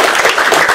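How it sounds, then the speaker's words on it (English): A crowd applauds a council member at a Car Free Day opening event, a brief steady wash of clapping with no speech. "let's give a big round of applause to the council member"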